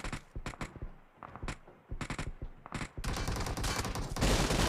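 Repeated gunfire bursts while taking out a camping enemy in the battle royale game PUBG, with several sharp, loud volleys spaced apart, then a dense, sustained barrage at the end.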